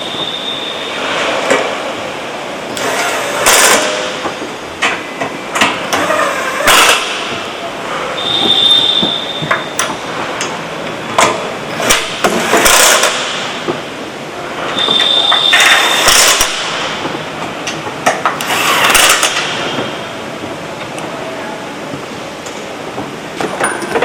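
Turbo-to-air-duct bolts being tightened on a high-horsepower diesel locomotive turbocharger in a workshop, with loud repeated metallic ratcheting and clanking bursts over steady machinery hum, voices intermittently in the background.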